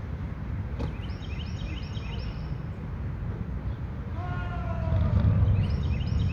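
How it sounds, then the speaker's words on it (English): Birds chirp outdoors in a shaded spot in Birmingham, Alabama: a few faint high twittering calls early on, then a clearer run of chirps later, over steady low rumbling background noise. "Hear the birds chirping?"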